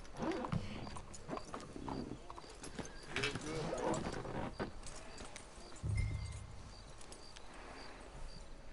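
Horse hooves clip-clop at a walk in Red Dead Redemption 2, a soft steady plodding rhythm running beneath people chatting over it.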